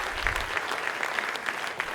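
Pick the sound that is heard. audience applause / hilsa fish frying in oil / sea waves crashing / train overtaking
audience applause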